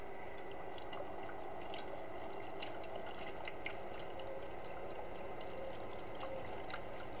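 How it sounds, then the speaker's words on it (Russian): Water being poured by hand into a washing machine for its rinse cycle, in a home without running water; a steady, soft, continuous splashing stream throughout, fairly faint and with no talking. "Сейчас машинка снова запрашивает воду, и мы ее доливаем"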